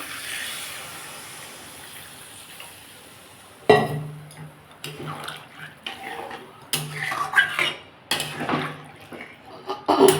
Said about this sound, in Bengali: এর মধ্যে জল দিয়ে দেবো